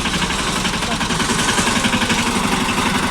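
A tractor engine running nearby on a farm, a loud, steady low chugging throb with fast regular pulses and no break.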